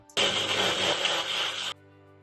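A kitchen mixer grinder gives one loud, close burst of about a second and a half, grinding cooked raw mango with coriander, mint, onion, red chilli powder, coriander powder and salt for chutney, then cuts off abruptly.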